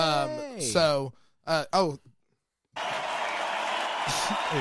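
A crowd claps steadily in a loose, sustained burst of applause after a few moments of talk and a brief pause.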